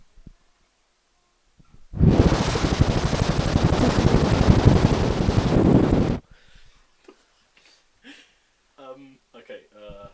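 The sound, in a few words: voice imitating a helicopter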